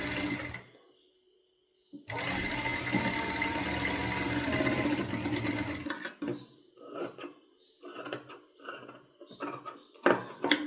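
A sewing machine stitches fabric for a child's top: after a short pause it runs in one steady, loud mechanical whir for about four seconds, then continues in short stop-start bursts.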